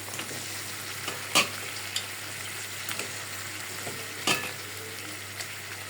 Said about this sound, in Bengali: এখন আমি ধুয়ে রাখা মুরগিটা দিয়ে দিই।